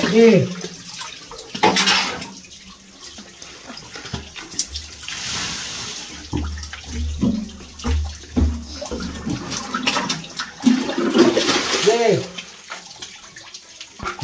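Strong flow of water pouring from a well in Samar, a steady rushing and splashing that runs throughout, with people talking over it at intervals.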